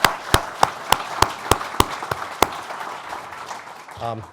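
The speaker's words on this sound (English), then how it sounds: "if we could give the governor and the Assemblywoman another round of applause" Several sharp, evenly spaced claps ring out at an event for the governor and an assemblywoman, followed by a brief murmur and a voice near the end.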